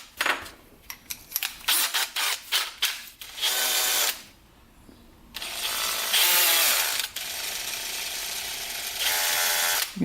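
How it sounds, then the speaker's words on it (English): A drill spins a bent engine valve from a Honda ATV, running in several short bursts and then longer steady whirring runs with brief pauses, close and fairly loud. "Let's stick it in the drill"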